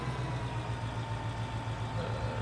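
A tractor engine in Farming Simulator 15 runs steadily with a low, even hum and faint whine, continuous and unchanging throughout, with no talking.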